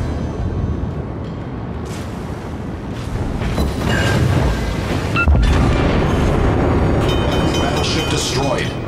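Heavy explosions and deep rolling booms from a naval battle in World of Warships, with a battleship being destroyed, rumble continuously and loudly, while voices talk over the din.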